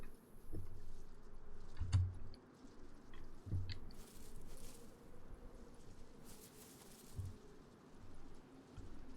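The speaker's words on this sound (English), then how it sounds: "that's the sound of the bush rubbing against me" Soft rustling and brushing of foliage as a player character in DayZ pushes through a bush, faint scratchy crunches with a few low thumps over quiet ambient background, no talk.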